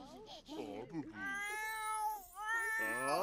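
Several cats meow in quick succession in The Sims 4, close and clear, with drawn-out, rising and falling cries and a voice speaking underneath.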